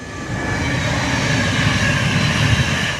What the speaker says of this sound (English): I think we got a train going by.